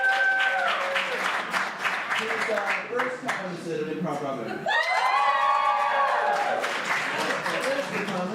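Audience applause and cheering at an ImprovBroadway musical improv comedy show, a steady wash of clapping beneath a host speaking loudly over it, with a brief swell of whoops midway.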